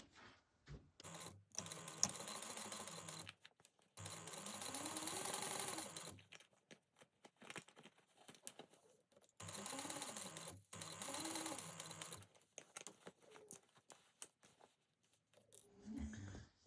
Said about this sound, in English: we're going to sew around the whole thing at a 3/8 inch seam allowance